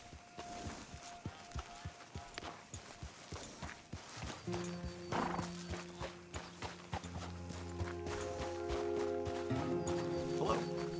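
Horse hooves clop in a steady walking rhythm, close and distinct, from a horse in the video game Red Dead Redemption 2; a possible whinny is unclear, and sustained musical tones join partway through and build under the footfalls.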